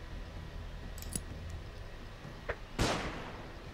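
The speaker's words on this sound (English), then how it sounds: "let's flashbang him" A flashbang grenade is thrown and detonates in the game Underrail: a few light clicks, then a single sharp burst with a brief hissing decay, modest in level over a low steady ambience.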